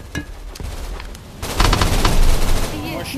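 Rapid gunfire in the VR video game GunRaider, a few sharp shots followed by a dense burst of automatic fire, close and loud, with faint voices around it.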